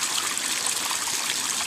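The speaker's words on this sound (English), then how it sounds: "The waterfall is very useful in degasifying the water" Water pours steadily over a small waterfall into a koi pond, fed by a stream, making a continuous close splashing and trickling rush with no pauses.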